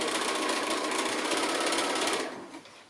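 A sewing machine fitted with a quarter-inch foot stitches a quilt four-patch block, its rapid steady whir running loud and close for two seconds before slowing to a stop.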